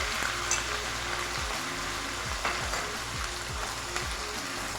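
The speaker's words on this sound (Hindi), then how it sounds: "और 1 मिनट के लिए इसको अच्छी तरह ऑयल में फ्राई कर लेना" Small boneless chicken pieces fry steadily in hot oil, a dense continuous sizzle with faint stirring, heard close up and without talk.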